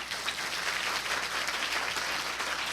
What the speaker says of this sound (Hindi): अरे प्रभु के लिए तालियां नहीं बजाओगे?